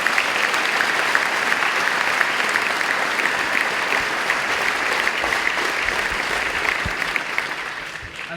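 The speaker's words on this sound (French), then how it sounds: "Nous pouvons applaudir Anne-Marie." Audience applause at a public political meeting in Limoges, a steady, dense wash of clapping from a crowd, moderately loud and even for the whole stretch, easing slightly at the end.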